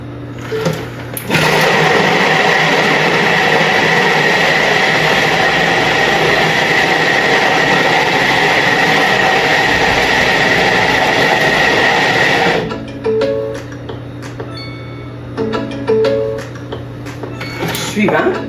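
Thermomix TM7 chopping basil, sage, rosemary and parsley at speed 7, a loud whirring blade roar lasting about ten seconds and stopping abruptly, followed by quieter clinks and a voice talking.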